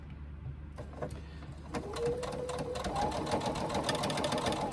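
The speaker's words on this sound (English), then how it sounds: "I'll now do my top stitch down the sides of these card slot sides." A sewing machine runs a steady, rapid top stitch down the card slot sides of a fabric sling bag. The close, even whirring and clatter starts after a brief quiet moment and continues without pause.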